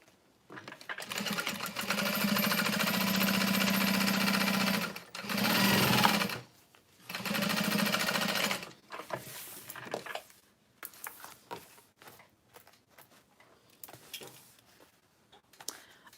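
A sewing machine top stitches a tote bag in several long, steady whirring runs that give way to shorter start-and-stop bursts, close and loud with no talk.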